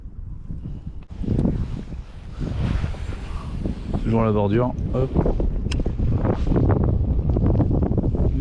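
Steady wind buffets the microphone outdoors near tidal water while fishing, a rough rumbling roar under a man's brief spoken words.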